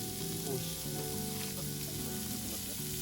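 Pork belly sizzles on a cast-iron pot lid set over a Solo Stove Ranger fire in a backyard, a steady, close frying hiss with small pops and crackles running throughout.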